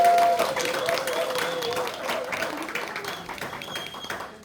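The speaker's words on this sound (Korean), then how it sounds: "우리 강의하실 때 박수로 환영하도록 하겠습니다" A room of people at a church training session clapping to welcome a speaker, a moderate, steady patter of hands lasting several seconds with some voices underneath.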